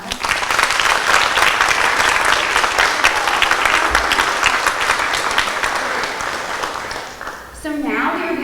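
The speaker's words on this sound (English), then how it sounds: "we can give them a round of applause." Loud sustained audience applause at a girls' academy graduation ceremony, dense clapping filling most of the stretch before tapering, then a voice begins speaking at the end.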